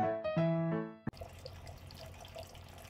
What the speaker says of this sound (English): I am gonna shower now